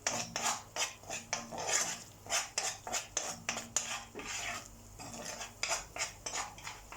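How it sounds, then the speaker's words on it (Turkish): A spoon or spatula scrapes and stirs cornmeal in butter in a pan for kuymak, close rhythmic scraping strokes repeating steadily with no voice over them. "Ve güzelce sık sık karıştırıyoruz arkadaşlar."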